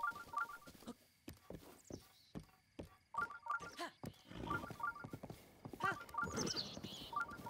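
Horse hooves clip-clop in quick bursts of sharp knocks, with game-like chimes and a brief whinny mixed in, fairly close and clear, in The Legend of Zelda: Breath of the Wild.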